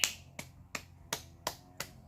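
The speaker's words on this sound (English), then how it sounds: "I will give yourself a firework clap" A class performs a rhythmic clap, six sharp snapping claps in an even, quick pattern, close and crisp, with no talking over them.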